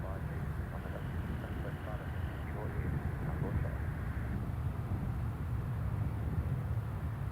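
An airliner arriving from Malta and landing at Newcastle Airport gives a steady, fairly loud engine roar that stays constant throughout, with people talking over it.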